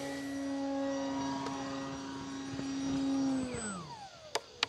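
A FMS PA-18 Super Cub 1.7 m RC model plane flies past with a steady droning engine tone that holds, then drops in pitch as the throttle eases, ending with a couple of brief knocks.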